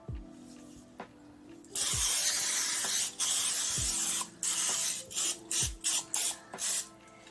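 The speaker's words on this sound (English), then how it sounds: "I'm gonna spray the pan here." Several hissing bursts of an aerosol cooking spray, one long spray followed by shorter quick spurts, close and loud, with faint thuds between.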